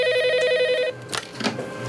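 A telephone rings with a repeating electronic bell tone for about a second, then stops, leaving quiet room noise and a few soft bumps.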